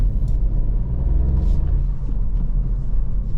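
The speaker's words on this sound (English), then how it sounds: "I'll change down to 2nd and it provides a lot more power to accelerate." A manual car's engine accelerates after a downshift to second gear, giving a low, steady rumbling drone throughout, close and moderately loud, with nobody speaking.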